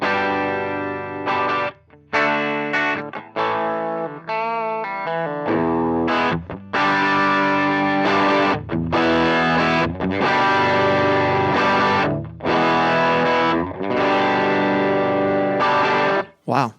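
Electric guitar chords through a JHS Kilt V2 distortion pedal, loud and heavily saturated, struck repeatedly with short gaps and ringing sustain.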